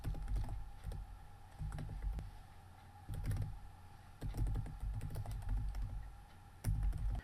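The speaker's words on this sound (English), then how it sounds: "we do that by typing in here where it says copyright" Steady typing on a computer keyboard while entering text in a WordPress site's copyright field, with dense, close clicking in bursts separated by brief pauses and no talk.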